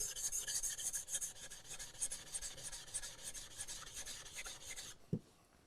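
A knife blade being sharpened on a flat stone, working the primary and secondary bevels: steady rasping strokes scrape back and forth continuously for about five seconds, then stop with a single soft knock and near silence.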